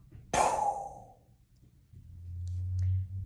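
A slow, deep exhale at the end of a root-lock meditation breathing exercise, with the thighs, belly, chest, arms and neck tensed. It comes as a sharp, breathy rush of air that fades over about a second, followed by quiet and a low hum.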